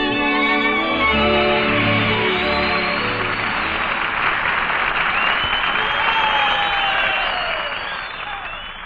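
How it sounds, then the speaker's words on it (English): Theater audience applauds at the final curtain of a radio drama broadcast, a dense wash of clapping that swells under fading orchestral music at the start and slowly tapers off near the end. "And there's the final curtain and applause for Barbara Luddy and Olin Soule"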